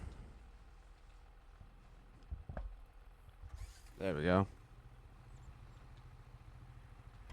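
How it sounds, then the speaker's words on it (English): A farm tractor engine in Farming Simulator 25 cranks and catches in a short, loud burst partway through. Someone speaks briefly over it and a low idle follows. "Start the engine."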